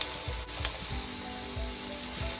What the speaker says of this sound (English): Now I'm just gonna flip the shrimp to the other side.